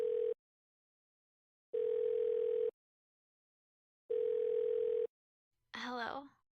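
Telephone ringback tone sounding in three evenly spaced beeps with silent gaps, followed at the end by a brief voice answering the call.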